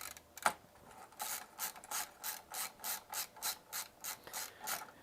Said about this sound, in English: that's what's in this LTT ratcheting screwdriver, is the tamper-proof T8 bit